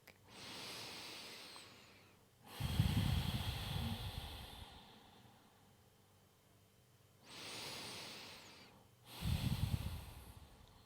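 Two slow, deep breaths during a gentle morning yoga session, each a long hissing inhale followed by a heavier, rougher exhale, close and quiet, with no talking.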